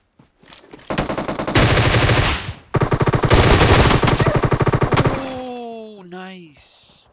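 Rapid automatic gunfire in PUBG Mobile, two long loud bursts of fast repeated shots separated by a brief pause, followed by descending tonal game sounds, with talk alongside.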